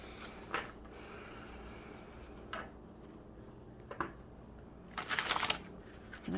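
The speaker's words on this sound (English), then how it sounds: "Let me shuffle some cards and we will get to number three." Tarot cards shuffled by hand during a card reading, soft riffling swishes arriving in short separate bursts every second or so, with a longer, louder riffle near the end, close and quiet against a hushed room.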